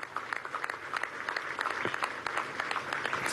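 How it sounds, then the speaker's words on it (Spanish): An audience applauds at the closing of the Venezuela Productiva exposition at Fuerte Tiuna, with continuous scattered clapping that sounds fairly distant and faint and has no speech on top. "desde aquí le damos un aplauso y decimos amén"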